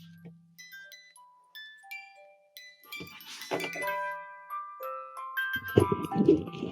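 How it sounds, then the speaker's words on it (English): A small music box sits on a hard desk surface, plucking clear, tinkling notes one after another, fairly close, with a louder burst of clunky handling and rattling partway through. "there's a little music box and we place it on just the hard surface of the desk"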